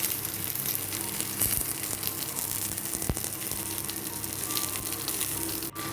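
Japanese puti fish wrapped in banana leaf fries in hot oil with a steady, close sizzle and crackle that lasts throughout. A few sharper pops stand out, and no voices are heard.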